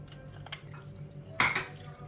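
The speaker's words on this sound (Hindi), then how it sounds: "अभी हम कुकर में पानी डाल रहे हैं और अब इसको हम प्रेशर लगा देंगे।" Water poured into a pressure cooker in a home kitchen while making palak gosht, a brief splashing burst close by, with faint clinks of metal cookware around it.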